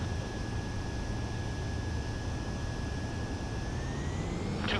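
A jet aircraft comes in to land in the video game Ace Combat 7, giving a steady, even broadband roar with a thin high whine that climbs slightly near the end; no voices.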